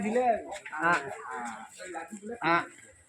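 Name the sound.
cattle mooing at a cowshed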